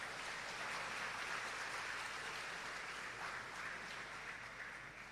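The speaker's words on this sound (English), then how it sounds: "Give them another big round of applause." Applause from an audience at a civic centre celebration after a choir performance, a steady broadband clapping wash that is fairly faint and slowly fades toward the end.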